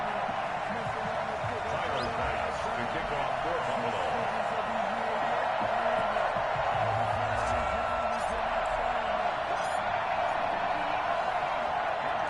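An NFL stadium crowd roars before a Week 13 December game between the Buffalo Bills and the New England Patriots. The dense cheering noise stays steady and loud for the whole stretch.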